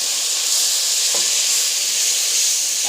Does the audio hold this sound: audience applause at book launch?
no